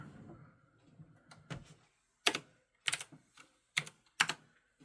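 Typing on a computer keyboard, a few soft taps followed by four or five sharp distinct key clacks spaced about half a second apart, close with no speech.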